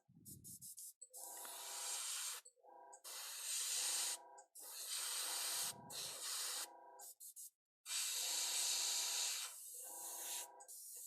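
An airbrush sprays paint onto a fantasy miniature in repeated bursts of bright hissing, each lasting one to two seconds and separated by short silences, with a brief breathy puff between some bursts.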